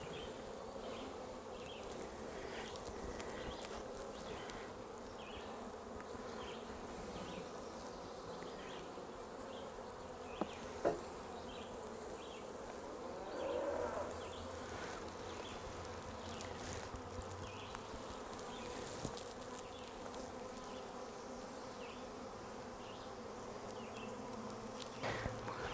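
Steady, dense buzzing of many honeybees swarming close by around an open hive, a continuous drone with occasional louder passes near the ear.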